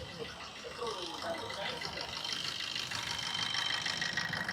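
A Maruti Suzuki Swift engine with a fault where the third injector gets no current from the ECM: a faint, steady running drone that swells slightly as it is revved, with a voice in the background.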